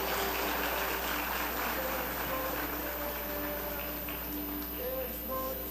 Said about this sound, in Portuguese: Aplauda bem forte a Jesus nessa manhã.